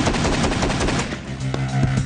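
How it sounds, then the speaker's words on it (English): AA-12 shotgun firing fully automatic, a rapid burst of loud, close blasts in quick succession, then a few further shots with ringing after. "A single pull on the trigger fires one round. Hold it in, and I go fully automatic."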